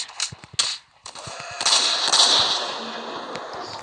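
Gunshots in a video game, a few sharp close cracks in quick succession at the start, then a louder crack followed by a noisy, sustained burst of rapid fire.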